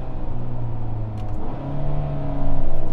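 Hyundai Santa Cruz pickup with a dual-clutch transmission accelerating, its engine note loud and close, climbing in pitch, dipping briefly at a gear change, then surging louder again, with no talking.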